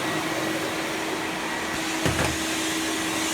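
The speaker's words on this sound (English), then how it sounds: "it's just a general workshop vac" A Delphin 802WD twin-motor industrial workshop vacuum runs with a steady, even whine and broadband rush at close range, with a brief bump partway through and no talking.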